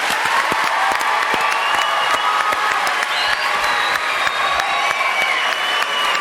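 Studio audience of a French television show bursting into loud, dense applause with some cheering, sustained and close throughout, with a faint tonal line running beneath the crowd.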